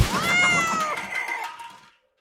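A cat gives one drawn-out meow, close and clear, that trails off into silence.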